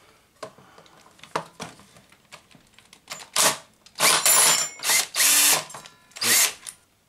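A power drill backs screws out of a miter saw during salvage teardown, giving several loud, close bursts of high-pitched whirring separated by brief gaps and lighter clicks and ticks.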